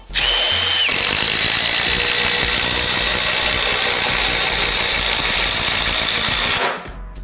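An 18V DeWalt cordless impact driver drives a screw in one loud, continuous burst of whirring and rapid hammering lasting several seconds, starting and stopping abruptly, close up with no talk.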